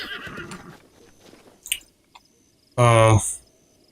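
Horse in The Legend of Zelda: Breath of the Wild gives one short, bright whinny late on, loud and close, after scattered faint clicks and a voice talking at the start.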